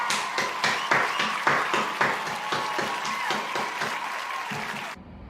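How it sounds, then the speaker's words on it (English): Applause from an audience fills the room, a steady patter of many hands clapping with some louder bursts, before it cuts off abruptly near the end. "Round of applause for Tom."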